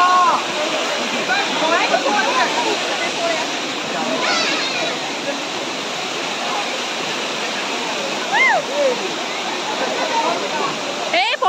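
A waterfall roars steadily and loudly at close range on a picnic outing in Mayurbhanj, with a constant broad rush broken only by faint birdlike chirps.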